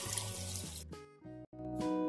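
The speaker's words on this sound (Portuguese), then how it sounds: "E agora, gente, é só colocar água." Water poured into a pot of beans with bay leaves for feijoada, a close steady splashing stream with a rising filling tone that cuts off briefly before pouring resumes.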